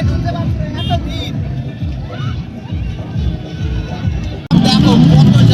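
A dense picnic crowd at a riverside ghat fills the air with loud, steady babble and mixed voices, with traffic nearby, and the hubbub swells louder near the end while someone speaks.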